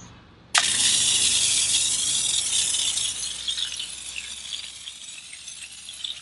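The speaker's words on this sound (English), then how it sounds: "let's go ahead and start spraying it and see what this Weirran pump sprayer can do" A Weirran pump foaming sprayer releases pressurized foam in a sudden loud hiss that starts abruptly and continues steadily, gradually weakening and sputtering as pressure drops.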